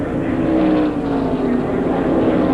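A 1995 Pepsi 400 NASCAR stock car at Daytona roars steadily as it heads into the corner, a loud continuous engine drone with a sustained tone and no break across the clip.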